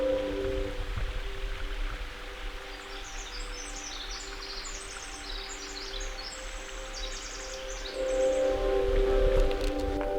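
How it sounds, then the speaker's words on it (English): A small mountain stream runs beside a hiking trail on Saddle Mountain, Oregon, giving a soft, steady rushing wash while bird chirps flutter above it through the middle of the stretch. "there's a little mountain stream that comes down"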